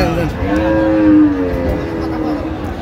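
A cow at a cattle market lets out one long, loud, droning moo lasting a couple of seconds, close by and mostly alone.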